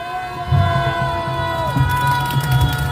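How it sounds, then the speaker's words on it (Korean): A crowd at a rally opposing a medical school quota increase bursts into cheering and applause, loud and sustained, with shouts rising over a continuous hum. "크게 한번 박수로."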